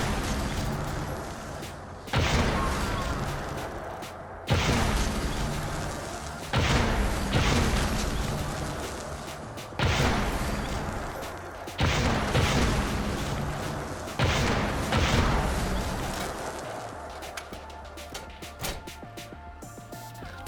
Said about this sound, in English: Now, I will be firing the PlasRail gun, so please take note of the custom sound effects